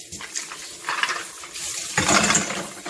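Snails get a final rinse under running water, with splashing and gushing in uneven bursts close by and some clattering of shells.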